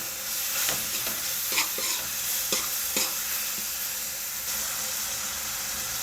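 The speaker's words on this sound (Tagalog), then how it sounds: "gisa lang natin ulit" Tomatoes sizzle in a pan while a utensil stirs them, with repeated scraping strokes over a steady frying hiss.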